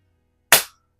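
A single sharp, loud shot from a Rohm Twinmaster Match air pistol cracks once and decays quickly into silence, with no talking.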